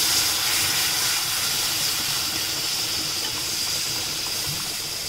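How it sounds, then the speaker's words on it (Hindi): Water is poured into dal powder for a Garhwali chaunsa dish in a home kitchen, making a steady, fairly loud hissing stream that runs unbroken throughout without speech. "Now we have to put water in it."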